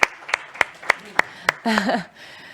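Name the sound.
audience applause after an agreement signing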